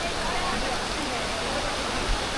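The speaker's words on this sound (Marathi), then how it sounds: "अप्रतिम धबधबे, तुम्ही मोजू शकत नाही ते धबधबे या परिसरात सातत्याने वाहत आहेत." A rushing waterfall near Marleshwar temple in the rain, a dense, steady roar of falling water that fills the short stretch evenly and sounds close.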